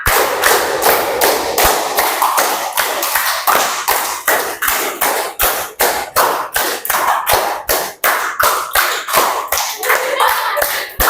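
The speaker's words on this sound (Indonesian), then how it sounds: "Kalau nggak ada, Ibu minta tepuk tangan." A class of schoolchildren claps in unison in a counted, rhythmic pattern, sharp loud claps grouped in repeating bursts with short pauses between sets, close and dry with little talk.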